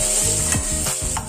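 Onions frying with mustard seeds, chana dal and curry leaves for cluster beans rice, a brief close sizzle punctuated by a few quick scraping stirs.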